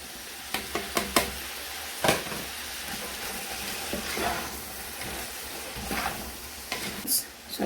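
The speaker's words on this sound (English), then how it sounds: "So I'm just still gonna fry this for a while so it comes out tender." Beef and yellow, red and green bell peppers frying in a pan for fried rice, a steady close sizzle with occasional sharp stirring clatters of the utensil against the pan.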